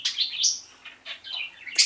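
Pet budgies chirp and twitter in a quick run of bright, close calls with brief pauses, no voices over them.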